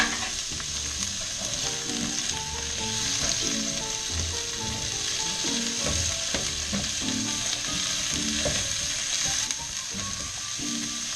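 Squeezed-dry artichokes brown in olive oil in a pan, a steady close sizzle and crackle with scattered stirring scrapes and clicks running the whole time, with no voices.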